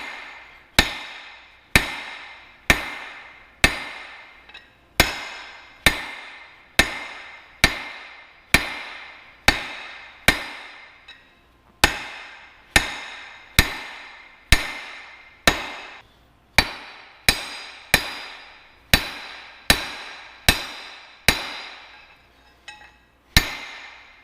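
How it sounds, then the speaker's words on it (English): Hammer blows on hot metal while blacksmithing door handles: a long run of sharp, ringing strikes at a steady rhythm of roughly one per second, each with a brief metallic decay, loud and close. "when you strike the metal, it's really important how you hit it"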